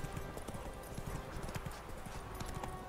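Horse hooves clip-clop rapidly and steadily at a gallop in The Witcher 3 video game, a continuous rhythmic pounding that stays at a moderate volume.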